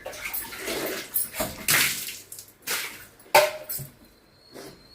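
Foamy water is tipped out onto the ground in several short splashing pours separated by pauses, close by and fairly quiet, with a faint whine in between.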